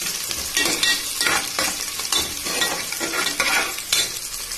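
Onions and green chili sauté in a pan for mint biryani: a dense, continuous sizzle close by, punctuated by repeated scraping strokes of stirring.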